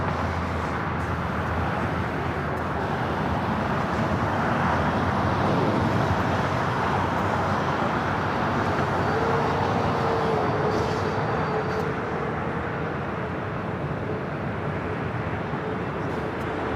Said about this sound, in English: Emirates heading back to Dubai